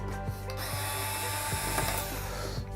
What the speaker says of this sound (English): I'm using a power driver in place of a Phillips head screwdriver